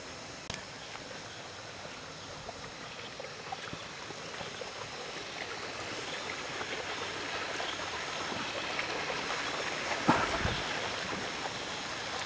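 Steady rushing of flowing water in a shallow river at Kaypuso Falls (Talon Butas), Bailen, Cavite, continuous and fairly close, with a brief splash or knock near the end.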